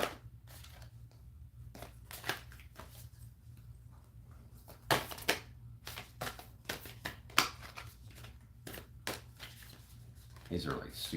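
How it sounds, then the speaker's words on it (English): Oracle deck of tight new cards is shuffled by hand in short papery riffles and slaps, fairly close and repeated in quick bursts, with a low hum underneath. "We'll get these things shuffled."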